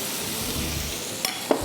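Boiled potatoes being mixed into spices in a hot pan for a batata vada filling, giving a steady sizzle and fry hiss with a couple of soft spoon knocks near the end.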